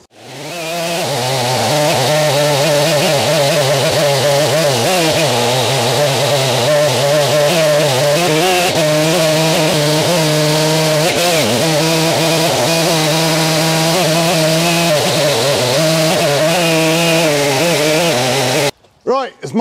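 A powerful production chainsaw milling English oak runs loud and close at a sustained high-revving buzz for nearly twenty seconds, then cuts off abruptly at the end.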